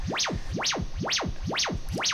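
A Kilpatrick Format modular synth sends bright tones through a reverb effect, producing steady, repeating rising and falling pitch sweeps that blur into a continuous reverberant wash.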